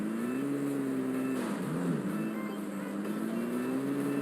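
A vehicle engine in a shooter video game drones steadily and close, its pitch dipping briefly mid-way before settling into an even hum.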